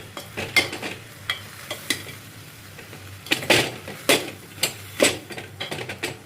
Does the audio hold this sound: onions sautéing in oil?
yes